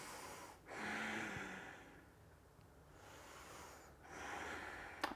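Slow, deep breaths taken while holding a yoga archer pose: long airy inhales and exhales repeat about three times, close to the microphone and fairly soft, with no talking.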